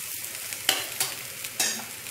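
Adai dosa frying in oil on a pan gives a steady sizzle and hiss, broken by a few sharp crackling bursts, close and moderately loud, with no talking.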